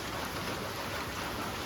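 Rain drums on a sheet roof in a dense, constant wash of patter, close and fairly loud, with no talk over it.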